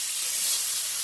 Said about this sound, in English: Ground beef usually make its own grease, but I still spray my pan a little bit.